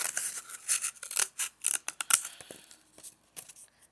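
Scissors snipping through a cardboard toilet paper roll, a quick series of crisp close cuts and rustles with brief pauses between them.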